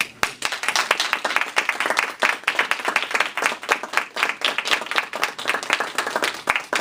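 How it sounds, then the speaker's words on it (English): An audience at a Toastmasters table topics contest meeting applauds the contestants, a sustained round of brisk clapping from a roomful of people, loud and even throughout. "please have another round of applause for the fantastic contestants in this room"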